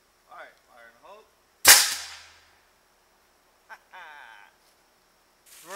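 A homemade NEST cannon fired by solenoid lets off one sharp, loud bang with a ringing decay, set between brief bits of nearby talk.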